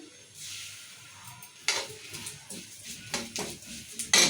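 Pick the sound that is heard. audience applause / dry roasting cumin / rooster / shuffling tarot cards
dry roasting cumin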